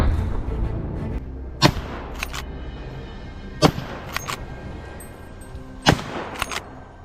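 Several sharp, muffled suppressed rifle shots in a boar-hunting video game crack out at irregular intervals over a low rumbling ambience, each short and subdued rather than booming.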